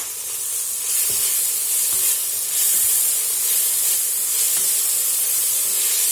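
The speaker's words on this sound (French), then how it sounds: "Rien de tel que des poivrons, de l'oignon et de l'ail qui frient." Peppers, onion and garlic fry in a pan with a loud, steady close sizzle and hiss that runs throughout, with a few faint stirring clicks.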